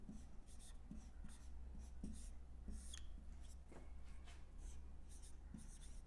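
Someone writes a definition on a board during a Hindi grammar lesson: quiet, steady scratching strokes with small taps, no talking, under faint room hiss.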